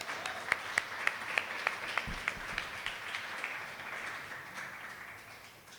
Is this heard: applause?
yes